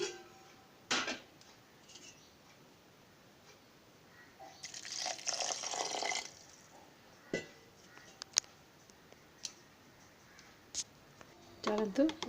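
Water pours in a short splashing burst into urad dal batter for Odia kadai pitha, surrounded by scattered clinks, taps and kitchen handling noises.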